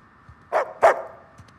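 Two distinct dog barks in quick succession from the video game Uncharted 4, the second slightly louder, over a low steady in-game background hum.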